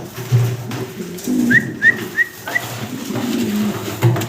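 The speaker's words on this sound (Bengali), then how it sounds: "এটা কি একটা কবুতর" Fancy pigeons cooing close by in a loft, low throaty coos repeating steadily, with a few short high whistle-like chirps in the middle and no talking.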